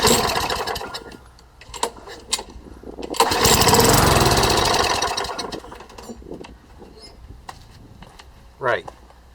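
Someone repeatedly tries to start an old lawn mower engine found at the curb. It coughs in short pulls, roars briefly, then dies and falls quiet, with people talking around the attempts.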